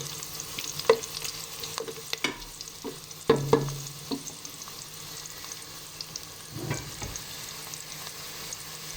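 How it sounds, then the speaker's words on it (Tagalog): Garlic, onion and ginger sauté in a pan as the base for chicken with papaya in coconut milk. A low, steady frying sizzle runs under intermittent spatula stirs and clinks. "so gisa muna natin ang bawang, sibuyas, luya"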